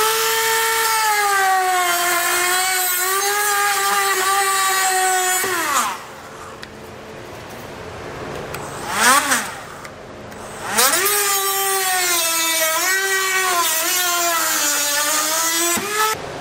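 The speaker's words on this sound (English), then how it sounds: "I'm just gonna use a Dremel tool, but you can always use a pair of snips or something like that." A Dremel rotary tool cutting through plastic push pins during a trailer hitch install on a 2015 Toyota Highlander: a steady high whine that dips as it bites the plastic, pauses briefly, then spins back up, close and alone.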